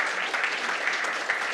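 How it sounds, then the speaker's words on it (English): Conference attendees at PyCon Italia 2024 applaud after a talk, a dense, even patter of many hands clapping together at moderate volume for the whole moment. "applause for this room as well"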